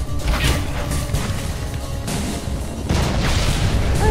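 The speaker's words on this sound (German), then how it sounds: "Ups, das explodiert doch, ne?" A loud explosion in the fantasy action video game Hunted: The Demon's Forge booms out with crashing, rumbling debris over continuous game noise, with no talking.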